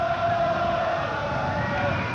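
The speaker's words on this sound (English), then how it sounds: "Listen to this crowd." A large crowd at a 1984 NCAA Division III lacrosse championship between Washington College and Hobart roars steadily, a loud, sustained wash of cheering from a packed stadium with no breaks.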